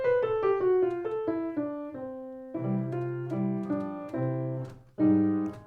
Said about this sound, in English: The Beebop scale, if you don't know, sounds like this.